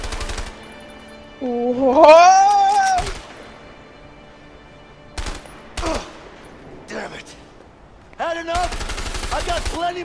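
Gunfire from the co-op video game A Way Out comes in several loud bursts of rapid shots, spread through the scene among spoken exclamations.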